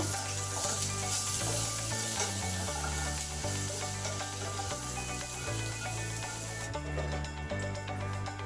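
Beans, flat beans and sweet potato fry in a covered pan for sukto, a soft steady sizzle sitting under prominent background music with low, stepping notes.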